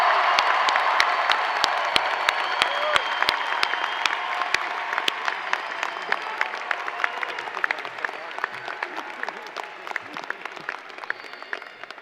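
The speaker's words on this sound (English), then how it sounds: "How about one more round of applause?" A big crowd at a 2025 College of Liberal Arts commencement claps for the graduating class, steady dense applause with a few sharp, close individual claps standing out and a faint cheer mixed in.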